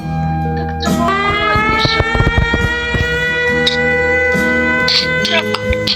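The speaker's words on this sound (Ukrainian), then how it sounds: "повітряна тривога." An air raid siren's rising wail swells and holds under nearby voices and knocking sounds, loud and continuous throughout.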